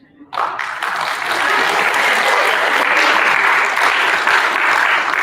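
Sixth-grade students at an awards assembly burst into loud, sustained applause and cheering after a brief quiet start, the clapping holding steady and dense throughout.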